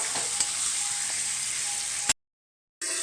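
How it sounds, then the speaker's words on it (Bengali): Chicken meat fries in a pan with a steady, bright sizzle that fills the clip, cuts out briefly and then returns. "এই 2 মিনিট মাংসটা 2 মিনিট ধরে একটু ভেজে নেব।"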